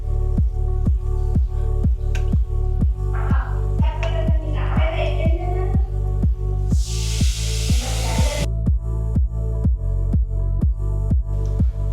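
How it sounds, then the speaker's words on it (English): Water is forced between the rocks of a five-foot home aquarium during cleaning. It sloshes and gurgles, then swells into a brief hissing spray, all over a steady, close, rhythmic ticking that runs throughout. "I'm just pushing the water between the rocks from one side, so all the debris would come out from the other side."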